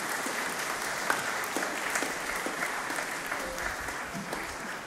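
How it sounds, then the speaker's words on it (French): Church congregation applauding during a worship service, a steady wash of many hands clapping at moderate distance, continuous and even for several seconds with a faint murmur beneath. "On peut applaudir le Seigneur?"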